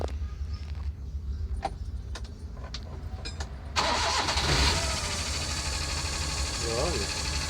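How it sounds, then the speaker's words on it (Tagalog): Suzuki Multicab with a rebuilt F6A 12-valve engine cranks briefly after a few clicks, then catches and settles into a loud, close, steady idle; a voice speaks over the engine. "So i-start ko na lang to."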